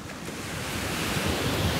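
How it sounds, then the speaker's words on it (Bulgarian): Sea waves at a beach in Barcelona, a steady broadband wash of surf that builds slightly over the clip, mixed with wind noise and no talking. "Дойдохме на плажа."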